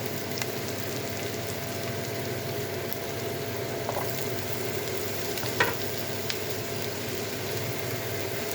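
Wilted onions frying in a pan, a steady close sizzle with faint crackles and an occasional stir, continuous and even with no talk over it.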